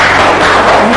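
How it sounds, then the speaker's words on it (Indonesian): A room of classmates at a university training session applauds, a loud, dense burst of clapping filling the whole short moment without pause. "boleh tepuk tangan buat teman-teman semua"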